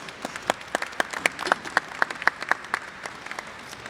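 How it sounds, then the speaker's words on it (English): At a Freedom Fund banquet, a modest audience gives a short round of applause for the speakers, distinct individual claps ringing out close and sparse, thinning toward the end. "Another round of applause for our speakers so far,"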